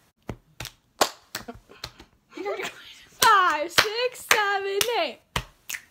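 Sharp, crisp finger snaps and claps pop out in a loose rhythm, close and distinct, while young people count aloud and sing between them during a senior photo outing.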